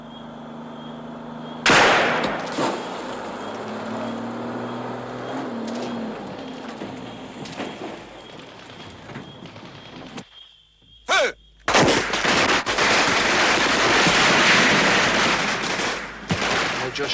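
Gunfire rings out against approaching enemies in a military combat scene, with a loud opening shot, scattered reports over a rumbling background, a brief silence, then a sustained dense burst of firing.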